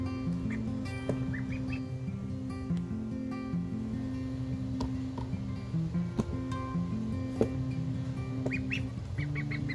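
Pekin ducklings peeping and quacking in a steady, continuous chorus, with many small calls overlapping close by against a low constant background.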